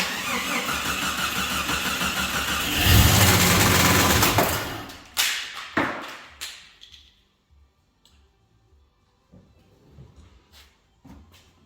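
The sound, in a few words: Jeep engine firing up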